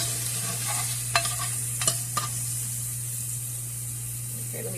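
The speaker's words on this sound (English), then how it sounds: "I'm going to let that sizzle for a bit." Onion sizzling in a pan for a white bean, ham and potato soup, a steady bright frying hiss close by with a few clinks of a utensil stirring against the pan.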